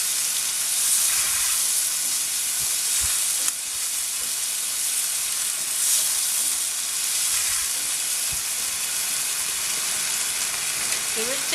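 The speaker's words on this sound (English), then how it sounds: "So then it will slowly cook the potatoes." Steady, even sizzle of potatoes frying over medium heat in a pan for a Bengali aloo bhaji potato fry, a constant crackling hiss with occasional faint stirring knocks.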